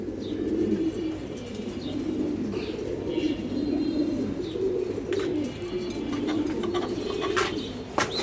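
Pigeons at a breeding farm in Mirpur, Dhaka, coo in repeated low throaty rolls close by, with scattered chirps and a few wing flaps mixed in.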